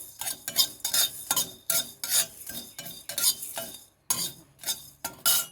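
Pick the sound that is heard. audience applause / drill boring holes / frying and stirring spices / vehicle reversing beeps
frying and stirring spices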